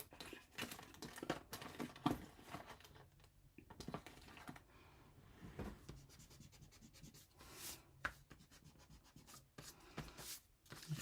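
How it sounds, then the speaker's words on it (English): A novelty eraser rubs masking off paper in quiet, close, uneven scratchy strokes that continue in bursts with brief pauses, with no voices. "see, this is just a plain old eraser, novelty eraser"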